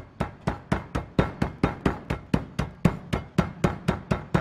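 Steady, evenly spaced thuds of a meat mallet crushing pretzels, about four per second, each hit with a crunchy crack, close and loud with no talking.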